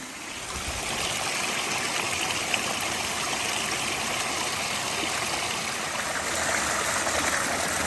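A mountain creek in the Appalachians runs over rocks in a steady, continuous rush of water that sounds fairly close and holds a constant level throughout, with no voices.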